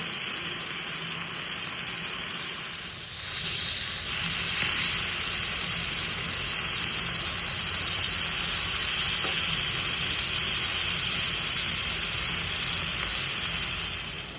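Masala-marinated food frying in a pan gives a loud, steady hissing sizzle that holds nearly unbroken throughout, close and dense, with only a brief dip near the start and no talking.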